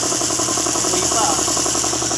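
A steady air compressor motor hums and drones at an even pitch, loud and close, running continuously without pause.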